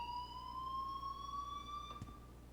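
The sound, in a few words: fire alarm ringing in video game Life is Strange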